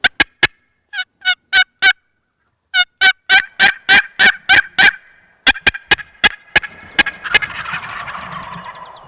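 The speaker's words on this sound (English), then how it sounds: "If I hear a gobble in the tree" A wild turkey gobbles outdoors in a hunting setting in Michigan's Upper Peninsula, delivered as rapid runs of sharp, loud calls in bursts with a short pause, ending in a rolling, rattling flurry with no talk.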